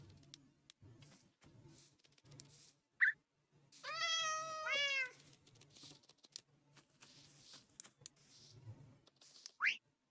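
A cat meows in the video game Minecraft, one long, warbling cry in the middle flanked by a couple of short, high squeaks, over quiet background noise and soft footstep-like patter.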